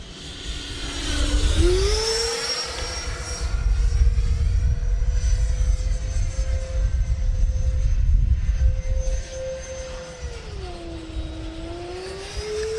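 A Freewing F/A-18C Blue Angels 90mm electric ducted-fan RC jet screams overhead. Its whine sweeps upward as the throttle rises, holds steady through a tail slide, then drops in pitch as it throttles back, loud and fairly close.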